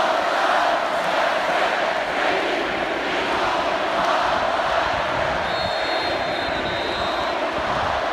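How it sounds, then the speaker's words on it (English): A roaring Auburn Tigers football crowd fills a stadium, cheering loudly and steadily throughout, heard from down on the field. "Here's one of my favorite cheers I could hear clearly from the field."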